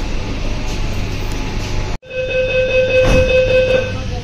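A Kolkata underwater metro train starts to move, its steady rumble and electric motor whine building up after a brief silence, with tonal hum rising in the carriage.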